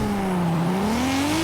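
A launch-control start in Forza Horizon 5 with a Viper: the engine holds a loud, buzzing rev that dips briefly and then climbs steadily in pitch as the car pulls away. It sounds close and continuous, with no speech.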